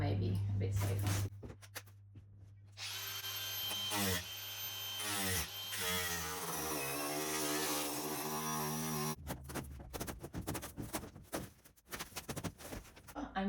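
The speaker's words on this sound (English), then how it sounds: "I hate using the grinding disc, but I don't know how I'm going to get this off." A grinding disc cutting into a non-metal part on an old Viscount being restored, a loud sustained high-pitched whine with changing tone over several seconds, framed by clattering handling noises before and after.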